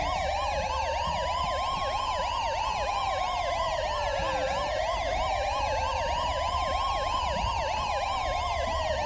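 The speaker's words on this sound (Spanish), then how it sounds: "¿se podrían ir sin sirena?" Police car siren in the video game GTA V with the LSPDFR mod, a loud, steady wailing siren sweeping up and down continuously throughout, close and alone over a low engine rumble.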